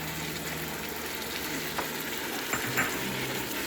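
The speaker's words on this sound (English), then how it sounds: "So we'll leave it sauteing a little bit before we add the tomato sauce." Couscous ingredients sauteing in a Ninja Foodi cooker, a steady close sizzle and crackle of frying with a few soft stirring knocks toward the end.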